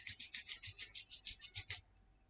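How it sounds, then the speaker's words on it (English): Hands rubbed together very fast for friction make a rapid, rhythmic swishing, about a dozen quick strokes close up and fairly soft, ending abruptly. "We can create friction by rubbing our hands together really fast like this."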